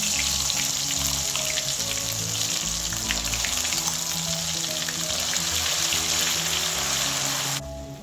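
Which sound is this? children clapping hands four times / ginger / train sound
ginger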